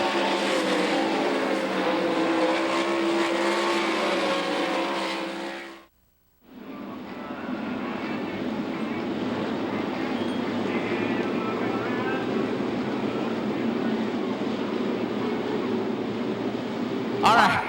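Race cars at Knoxville Raceway roar past loudly, engines blaring continuously before a brief gap, then more cars thunder by under a track announcer's commentary.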